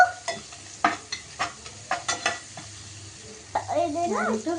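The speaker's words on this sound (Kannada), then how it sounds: "ಹಿಂಗೆ ಫ್ರೈ ಮಾಡ್ಕೊಬೇಕು" Mango and other ingredients for homemade mango rice are stir-fried in a pan, with a run of spatula scrapes and clinks over a steady low sizzle close by, ending in a louder, continuous frying hiss.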